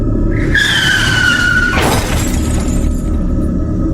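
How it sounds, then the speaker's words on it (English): A car's brakes screech in a long rising squeal on a road at night, ending in a loud crash of impacting metal and breaking glass, followed by a rumbling wash of debris. "The screech of brakes, the brutal impact of metal"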